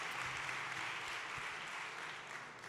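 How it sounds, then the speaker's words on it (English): A large keynote audience applauding for SAP's Bill McDermott at Vivatech, a steady, distant wash of clapping that holds evenly and fades slightly at the end. "let's give Bill a big round of applause, please"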